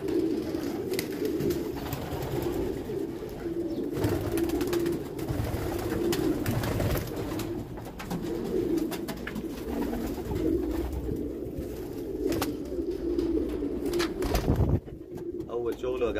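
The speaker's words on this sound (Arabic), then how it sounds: "يا جماعه الحمام كله" Dozens of meat pigeons in a room on a pigeon farm in Damietta give a steady, dense chorus of low cooing close by. Someone talks over the birds throughout.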